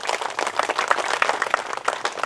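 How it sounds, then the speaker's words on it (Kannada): Audience at a pyramid king chamber opening ceremony in Somusamudra, Ballari, clapping steadily in dense, continuous applause from many hands, close and fairly loud throughout, with no voices over it. "ಅವರಿಗೂ ಕೂಡ ಜೋರಾದ ಚಪ್ಪಾಳೆ ಮಾಡ್ತಾರೆ"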